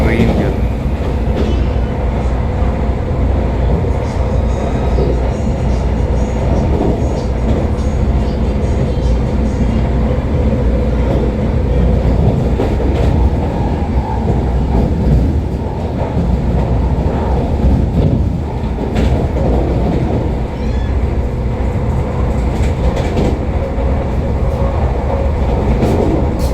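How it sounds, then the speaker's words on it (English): Interior of a Vande Bharat train running through heavy rain, a steady loud rumble with rain pattering on the window, continuous for the whole stretch. "Rain falling rapidly on the window of train."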